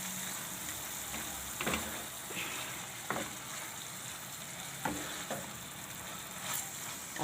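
Bottle gourd ladoo mixture is stirred in a pan, giving a low steady sizzle with scattered soft scraping strokes of the spoon and no voices.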